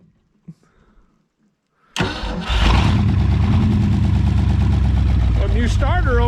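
A 1973 Mercury Comet GT V8, abandoned for decades and recently fitted with a new starter, cranks and fires up, then settles into a loud, steady, rumbling idle, with people talking over it.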